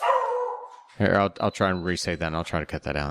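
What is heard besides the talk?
dog barking, excited to go outside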